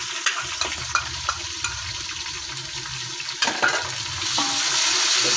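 Ginger garlic paste frying with browned onions in a pan for mash daal, stirred with a utensil: a steady sizzle with scattered scraping clicks, rising louder near the end.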